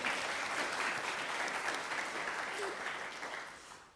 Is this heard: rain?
no